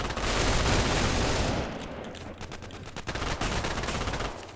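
Submachine gun fire in a video game: a loud, dense burst of automatic shots for the first two seconds, then scattered single shots and shorter bursts with some distant gunfire behind them.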